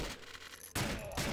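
Guns fire in the survival shooter Deadly30: a loud, close burst of rapid shots that breaks off and then resumes, with no talking.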